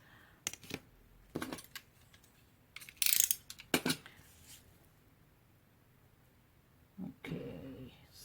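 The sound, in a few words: trimming paper for an art journal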